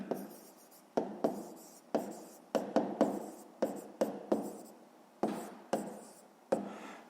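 A pen writes on paper during a fifth-grade geometry exercise, with quick, soft, rhythmic scratching strokes repeating about twice a second, close and quiet with no talk.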